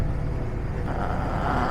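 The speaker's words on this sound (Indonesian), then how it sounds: "Awas truk." A truck passes on a road between Sindangbarang and Ujung Genteng, heard as a loud, steady low rumble close by for the whole moment, with no voices over it.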